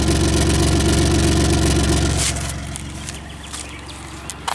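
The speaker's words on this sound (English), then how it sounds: "And this is how she sounds out the tailpipe." Exhaust at the tailpipe of a car with 275,000 km, engine idling with a dead miss, a loud uneven rumbling pulse up close that drops away partway through.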